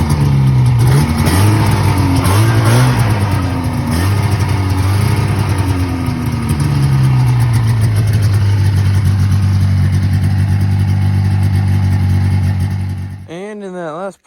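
A 1980 Yamaha SS440 Exciter snowmobile engine, left sitting in the woods for 20 years, runs loud and close with a throbbing two-stroke note that revs and wavers early, then settles into a steady idle before cutting off near the end.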